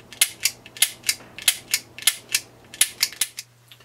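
Taurus PT111 Millennium G2 pistol dry-firing with repeat strike: about a dozen crisp, close trigger and hammer clicks, each paired with a fainter mechanical snap, in a steady quick rhythm over a low hum.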